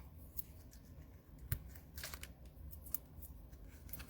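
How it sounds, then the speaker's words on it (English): Ribbon scissors snipping apart pieces of patterned paper, a few sharp cuts at a close, quiet crafting table with light rustling between them. "cut the pieces apart."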